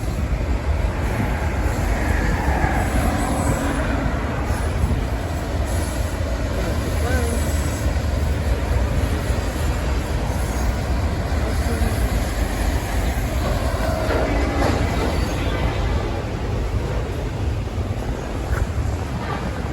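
A Union Pacific freight train with a DPU passing in Grand Prairie, Arlington, Texas: a loud, close, continuous rumble and clatter of rolling wagons that lasts throughout.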